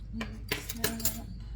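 A metal utensil clinks against a mixing bowl in a few sharp taps and scrapes while cinnamon is stirred into a mixture for quick butterscotch rolls, fairly close and quiet.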